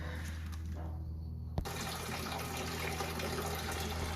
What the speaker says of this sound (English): I'll remove the thermostat and then I'll drain the radiator